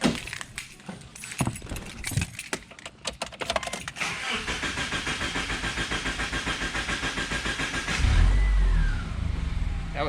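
A Toyota FRS sports car engine cranks and catches after front-end work, settling into a steady, close idle with a brief rev near the end.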